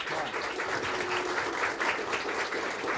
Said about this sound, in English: Another round of applause for all of our candidates.